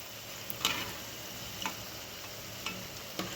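Badusha sweets frying in hot oil, a steady soft sizzle broken by a few sharp pops and ticks at roughly one-second intervals.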